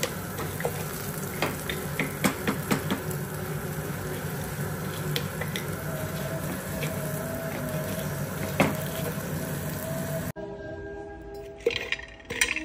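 Green chilies crushed in a tilted pan using a metal tumbler, heard as repeated clinks and scraping taps over a steady sizzling, broadband background, followed by a quieter stretch with a few scattered knocks near the end.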